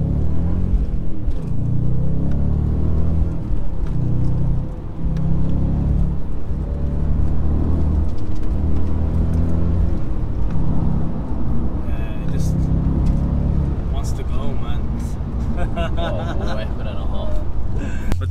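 A tuned Audi S4 with a 4.2 V8 drives on the road, its low engine rumble droning steadily with slight rises under someone talking throughout.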